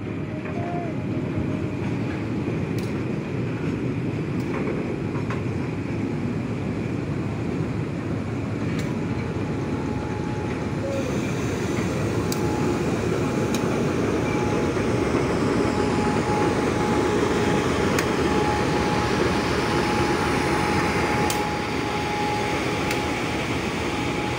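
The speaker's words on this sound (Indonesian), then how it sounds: "Ada kereta api" A CPO tanker freight train rolls past Perbaungan station at night, a loud steady rumble of wagons with faint rhythmic rail clacks throughout and a voice speaking briefly.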